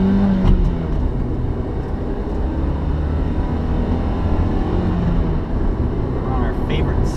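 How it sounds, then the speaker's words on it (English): Steady low road rumble and tire roar inside a 2003 Honda Accord EX-L while driving on a test road, continuous and fairly loud, with faint talking mixed in at moments. "now I'm sure you can hear the classic Honda road noise"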